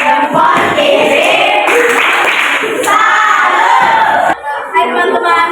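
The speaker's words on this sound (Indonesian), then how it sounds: "Tepuk tangan" A group of school children clap their hands together in a lively classroom, the claps mixed with shouting and excited voices throughout.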